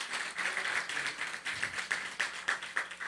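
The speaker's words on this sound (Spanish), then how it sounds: "Así es que un aplauso, Melina." An audience gives a round of applause at a live event, rhythmic clapping heard at a moderate distance, fairly quiet and pulsing through the moment.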